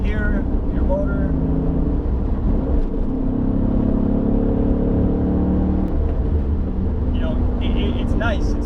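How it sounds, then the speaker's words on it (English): A 2004 Cadillac CTS-V engine drones steadily from inside the cabin while driving, a loud continuous low rumble with rising and falling tones throughout. "with this thing, you definitely have engine noise. You could hear your motor."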